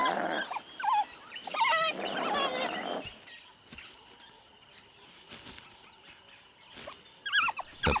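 A pack of painted wolves, African wild dogs, chases and catches nyala in thicket, with high squeals, chirps and twittering calls, rustling and scuffling, loud bursts at the start and end and quieter squeaks between.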